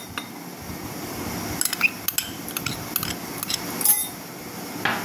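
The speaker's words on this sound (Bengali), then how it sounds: "প্রথমে আমি চিড়েগুলো সবকটা মিশ্রণ মিশিয়ে নেবো একসাথে।" Flattened rice (chira) being mixed in a bowl, with light clinks and scrapes of a utensil against the bowl coming in irregular bursts over a quiet kitchen background.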